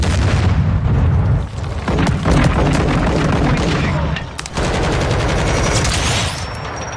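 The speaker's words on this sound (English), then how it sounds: "What are you shooting at?" Call of Duty Modern Warfare II multiplayer gunfire, loud and dense, with rapid automatic bursts, booms and near shots overlapping in a continuous barrage with brief dips, under occasional game voices.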